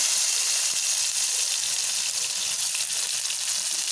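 Onions sizzle steadily in hot oil with chana dal while cooking a tomato curry, a constant close hiss with no voices.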